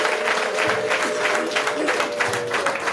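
Wedding guests clap steadily and ululate at a celebration with traditional dance troupes and drums. The dense crowd sound is close and fills the whole stretch, with trilling voices rising above the applause.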